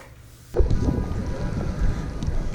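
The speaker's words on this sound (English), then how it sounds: "It's raining." Rain falling outdoors along a street in Monterey, California, a steady broadband patter with wind buffeting the microphone that starts abruptly and continues without a break.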